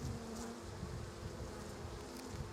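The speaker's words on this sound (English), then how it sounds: "Small bees. Seem to be small bees. Quiet bees." A hive of small, quiet bees hums steadily during an inspection, a close, even buzz with a low droning tone and no voices.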